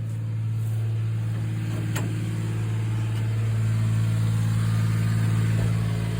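A 5-ton truck engine, hooked to a battery charger and a second battery, cranks and catches, then settles into a steady, loud low idle close by, with a sharp click early on.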